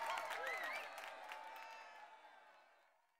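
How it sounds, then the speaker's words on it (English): A crowd of cheering ants bursts into applause, a dense wash of clapping with a few whoops and whistles up front that swells briefly, then thins and fades away over a few seconds. "is the sound of applause!"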